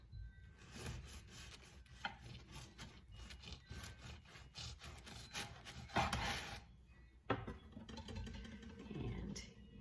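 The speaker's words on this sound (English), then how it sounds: "The bread has cooled enough where I can slice it and toast it." A knife saws through cooled homemade English muffin bread in steady back-and-forth strokes, a rough rubbing rasp that carries on with brief pauses, close but fairly quiet.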